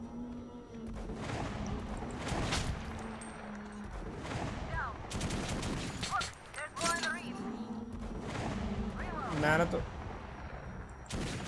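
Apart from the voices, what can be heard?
gunfire in Metro Last Light, a video game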